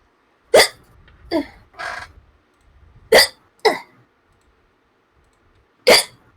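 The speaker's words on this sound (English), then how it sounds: "I get hiccups whenever I get scared." A person hiccuping, sharp close hiccups spaced irregularly with a short breathy sound between, quiet gaps in between.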